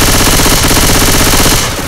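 Automatic weapons fire rattles in Left 4 Dead 2: a loud, continuous, rapid burst of gunshots right up close that dominates the whole stretch before tailing off slightly at the end.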